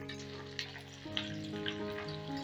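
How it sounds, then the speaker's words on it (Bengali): Steady sizzling and crackling of spices with Kashmiri chilli powder frying in hot oil, with scattered small pops over a faint sustained tonal hum. "এবারে তরকাটা একটু ভাজা ভাজা করে নেব"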